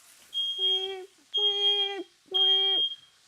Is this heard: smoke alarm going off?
yes